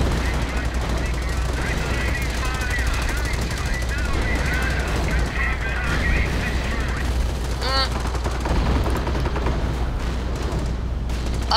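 Rapid continuous machine-gun fire rattles throughout a war video game battle, mixed with other game effects and honk-like sounds while a commentator talks over it.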